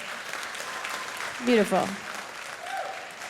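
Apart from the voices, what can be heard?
audience clapping hands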